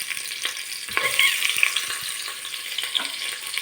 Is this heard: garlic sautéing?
yes